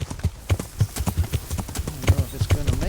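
Horse hooves clip-clop in a quick, uneven rhythm while climbing a steep hill in the video game Kingdom Come Deliverance, close and steady, with someone talking over them.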